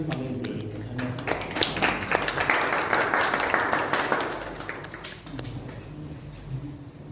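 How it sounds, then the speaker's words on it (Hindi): Church congregation clapping together to welcome three singers to the front, a dense burst of hand claps swelling for several seconds, then thinning out as room murmur and a low hum remain. "सब हम मिलकर ताली बजा के उनका स्वागत करेंगे"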